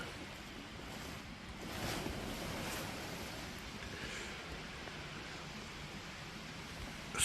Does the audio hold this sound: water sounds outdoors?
yes